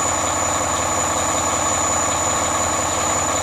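A 2010 Volvo big rig diesel engine idles steadily after a cold start on a roughly 20-degree day, a constant close low rumble with no talk over it.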